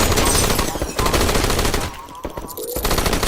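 Rapid automatic gunfire in the video game HOLE, loud bursts of machine-gun shots hammering close by, pausing briefly midway before the firing resumes.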